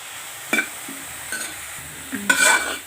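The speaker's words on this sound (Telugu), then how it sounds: "మంట చిన్నది పెట్టి ఇలా పచ్చివాసన పోయేంత వరకు కూడా మనం ఇలాగ వేయించుకోవాలి" Gobi paratha stuffing fries gently in a pan over a low flame, with a soft sizzle beneath a few scraping stirs of a spoon, close and moderately quiet.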